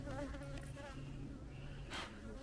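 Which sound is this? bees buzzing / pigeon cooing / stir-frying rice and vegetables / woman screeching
bees buzzing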